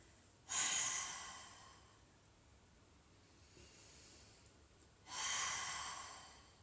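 A person breathes out deeply twice in a quiet meditation setting, each breath a long, soft, airy exhale that fades slowly, heard close with no talk.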